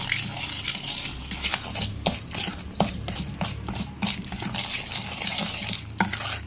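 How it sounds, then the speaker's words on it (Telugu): Spoon stirring mustard powder into oily boiled mango pickle, a steady scraping and sloshing with soft clinks against the pot, close and continuous with no talk. "ఇది ఇట్లా కలుపుకుంటే చాలు మనము"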